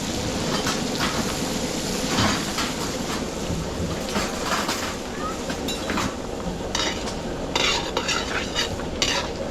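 Garlic and onion frying in butter for spaghetti sauce, a dense continuous sizzle with frequent metallic stirring scrapes and clatter, close and loud throughout.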